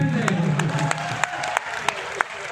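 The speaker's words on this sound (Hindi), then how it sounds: "ताली बजा दो, चौथी बात अच्छी थी।" An audience at a Hindi comic poetry recital at the Ratnawali Festival claps in a thin, scattered round of applause, with a few sharp individual claps standing out while voices murmur over the start.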